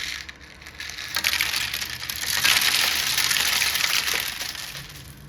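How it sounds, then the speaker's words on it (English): Water pours onto a LEGO Sonic game build in a steady rushing gush, rising to a fuller splash in the middle before easing off, close and continuous without any voices. "Oh, and we can't forget to add some water."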